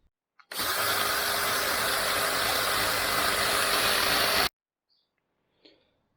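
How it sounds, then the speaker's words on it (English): A power drill whirs continuously for about four seconds at a steady pitch, enlarging a hole in a metal bushing socket on a Mercedes W210 rear control arm, then cuts off, leaving near silence with a faint clink. "I'm going to have to drill this socket out, this hole in here, a little bit bigger."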